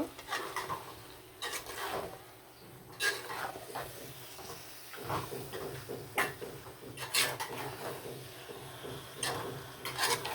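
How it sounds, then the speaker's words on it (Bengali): Chicken meat is stirred into spices in a pot, with a spoon scraping and clanking against the metal in irregular bursts, soft sizzling beneath, fairly close and quiet. "সবগুলো মাংসই কিন্তু দিয়ে দিলাম দিয়ে ভালো করে মশলার সাথে কিন্তু লাড়াচাড়া দিয়ে মিশিয়ে দিব"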